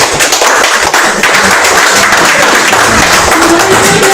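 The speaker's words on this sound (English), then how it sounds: "Can we please, once again, clap for that man and his family, please" An audience at an IPOB Ireland national meeting applauds steadily and loudly, a dense wash of many hands clapping at close range with no talk over it.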